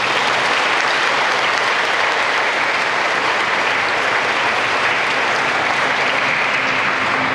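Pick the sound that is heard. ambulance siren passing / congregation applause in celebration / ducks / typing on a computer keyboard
congregation applause in celebration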